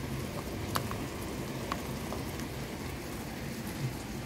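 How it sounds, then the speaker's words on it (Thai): Rain falls steadily as a dense, even patter, with a few louder drops here and there, heard outdoors during a washing machine repair. "ฝนตกก็เริ่มหยุดแล้วแดดเริ่มออกแล้วเนี่ย"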